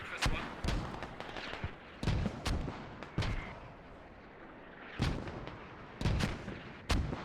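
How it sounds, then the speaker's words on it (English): Mortar artillery fire in the video game Squad, a series of sharp booming impacts and blasts at irregular intervals, some near and loud, others more distant, with faint game ambience between them. "very good mortar hit there, wiping out two BKS members"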